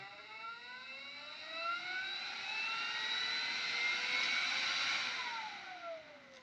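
A strong fan motor restarting at low voltage, under about 10 volts, spins up with a rising multi-toned whine that climbs steadily, peaks near the end, then begins to drop off; no one speaks.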